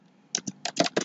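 Code is typed on a computer keyboard for an Android Studio project, with a quick, irregular run of about six close, crisp key clicks and no talking.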